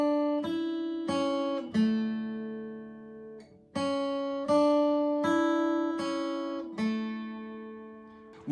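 Plucked guitar notes from the lick in a song, a short run of clear, ringing single notes in a steady rhythm, close and alone with no talking.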